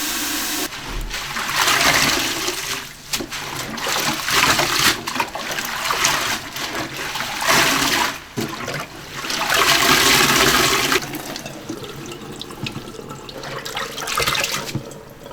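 Tap water runs steadily and splashes in a kitchen sink while vegetables, fishwort root and coriander, are rinsed, with the flow swelling and easing over about fifteen seconds and no talking.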